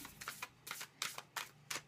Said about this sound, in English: I'm getting the oracle cards out. We're going to shuffle them up.